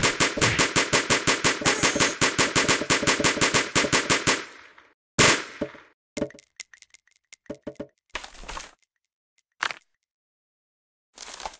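Rapid machine gun fire at a shooting range in the Kick The Buddy mobile game: a loud, even burst of quick shots lasting about four seconds, followed by scattered single bangs and clinks with gaps of silence.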